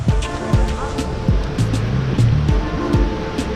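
Water pours and splashes steadily at a water park, a continuous rushing wash with scattered louder splashes, close by and fairly loud.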